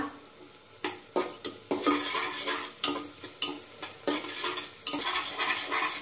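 Ginger, garlic and green chili paste sautéed in a pan for cauliflower pulao, with a bright sizzle and a run of sharp, irregular spatula scrapes and knocks against the metal, close and clear.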